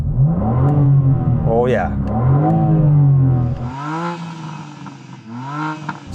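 A BMW M4 CSL engine is revved hard, rising and falling through loud, close bursts before settling to a rougher idle, with a brief exclamation from a man over the noise.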